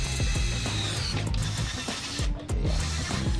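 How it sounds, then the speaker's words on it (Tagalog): A power drill drives black gypsum screws into wood for a DIY monitor riser stand, a close, loud, ratcheting whir with rapid rhythmic pulses and a brief break near the end. "Gumamit tayo dito na drill."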